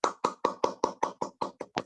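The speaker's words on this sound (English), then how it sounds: "Please turn on your mic and clap for yourself." Steady, evenly spaced claps, about ten in under two seconds, come through a microphone as meeting participants in an online Toastmasters club session applaud themselves; sharp and fairly close, with no talking.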